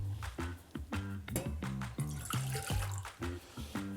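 Water poured into a pot for carrot pickle brine, a bubbling, gurgling pour with rapid rhythmic glugs, close and moderately quiet, alone.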